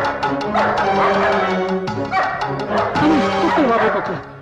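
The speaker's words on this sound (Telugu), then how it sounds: "కుక్కలు బాబాయ్" Dogs barking repeatedly at a village panchayat office, several yips and woofs close by in a steady stream, with some whimpering mixed in.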